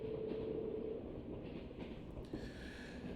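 Train rolling along rails in the video game Trails of Cold Steel, a steady low rumble with a brief tonal whine early on and faint rattles and clacks, moderately loud and without speech.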